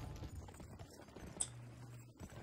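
Faint video game horse hooves clip-clop in a quick, uneven rhythm at low volume, with a soft hum underneath, from the game Gun.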